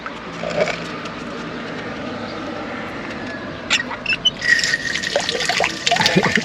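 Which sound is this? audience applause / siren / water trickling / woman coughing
water trickling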